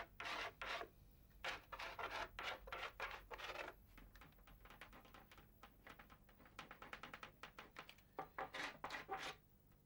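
Short bursts of dry rasping scrape back and forth, close and fairly quiet, as sandpaper is rubbed over a shaded drawing in quick strokes.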